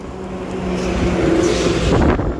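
Traffic rolls continuously along a busy road at the scene of a road accident, with vehicles passing close by in a loud, steady engine rumble and no one speaking.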